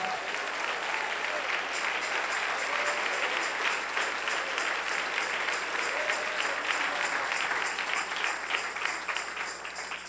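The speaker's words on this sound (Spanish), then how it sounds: "Dale un aplauso al Rey en esta mañana." A church congregation applauds during a morning service, a dense, steady wash of clapping that holds at full strength for about ten seconds, with faint voices mixed in.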